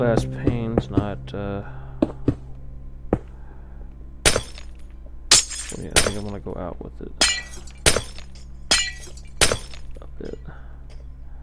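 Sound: glass panes breaking in Minecraft video game

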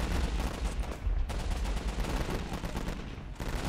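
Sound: machine gun fire in video game Warfare 1944

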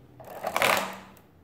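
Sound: de Colmar arithmometer mechanism operating in subtraction

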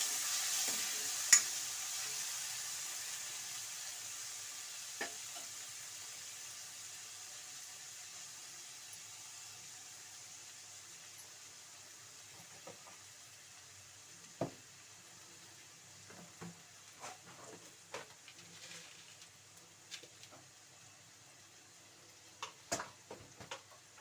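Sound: frying onion, garlic ginger paste and tomato in pan

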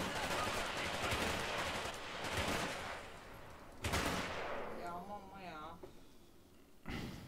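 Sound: gunfire in War Mongrels video game

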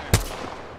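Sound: gunfire in a video game

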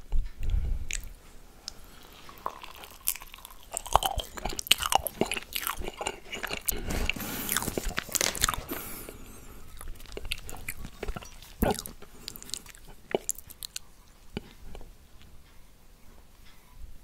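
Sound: eating marshmallows dipped in melted dark chocolate

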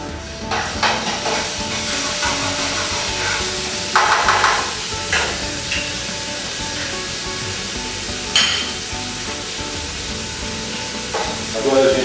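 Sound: garlic frying in olive oil for bacalhau

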